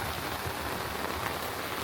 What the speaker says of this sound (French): Il s'est mis à pleuvoir d'un coup là.